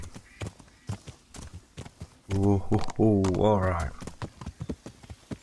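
Horse hooves trot at an even, steady clip-clop in the video game Kingdom Come: Deliverance, moderately close and rhythmic throughout, while a voice speaks briefly over the middle.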